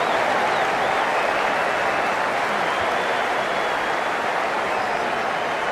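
Stadium crowd in the video game Cricket 19, a dense, continuous roar of cheering and clapping at steady loudness, with no break.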